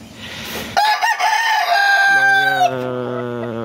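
A Peruvian Boston Roundhead rooster gives one loud, close crow with a long drawn-out tail, clear over light background noise.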